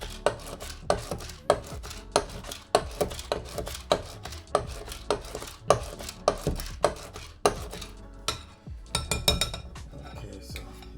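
Banana fritter batter for Jamaican banana fritters being worked in a bowl, giving a steady run of sharp tapping and clinking strokes of utensil against bowl, fairly close and continuous with a brief pause near the end.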